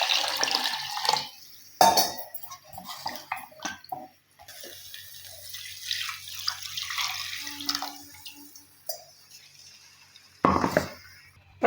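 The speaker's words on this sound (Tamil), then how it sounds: "இப்போ மிக்ஸி ஜாரில் தண்ணி சேர்த்து உங்களுக்கு குழம்பு எந்த அளவுக்கு திக்னஸ் வேணுமோ அந்த அளவுக்கு வந்து நீங்கள் தண்ணி வந்து சேர்த்துக்கலாம்" Water pours and splashes into a mixer jar while cooking garlic kuzhambu, coming in uneven bursts with gaps, drips and a few clinks of the jar, close and fairly quiet.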